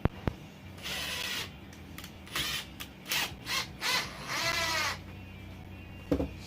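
A power drill screws a mount onto a piece of wood in a series of short whirring, ratcheting bursts with a rising pitch, separated by pauses and sharp knocks, close and moderately loud.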